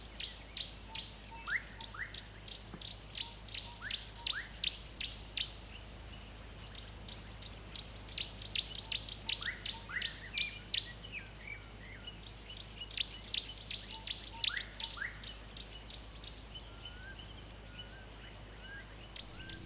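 An orange-breasted bushshrike calling at a bird hide in an African game reserve: bursts of sharp, high whistled notes in quick series, repeated at intervals, fairly close over a steady low hum and faint background chirps.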